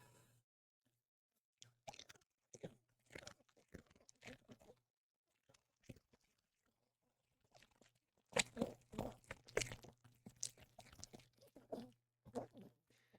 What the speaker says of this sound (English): You crunch that so loud.